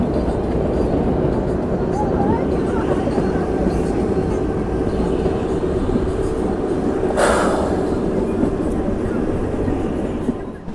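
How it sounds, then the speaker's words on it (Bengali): The Kalka–Shimla toy train rumbles steadily along its mountain track, a dense continuous clatter heard from inside the carriage, with a brief hiss near the end and voices talking at times. "আমরা কালকা থেকে যে এই টয় ট্রেনে আসছি"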